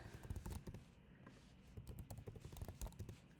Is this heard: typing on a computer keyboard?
yes